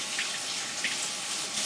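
Steady hiss of tap water running over hands being washed at a kitchen sink, with soft splashes and no speech.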